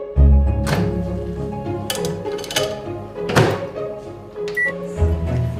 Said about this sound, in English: Pop them in the microwave and after just a few minutes the holder can be removed.